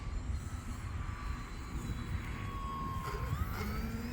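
An E-flite Decathlon RJG 1.2 m RC model airplane with wingtip lights flies overhead, its electric motor and propeller giving a steady, moderately distant whine with slight pitch shifts over a constant background rumble.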